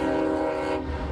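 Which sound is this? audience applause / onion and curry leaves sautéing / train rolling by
train rolling by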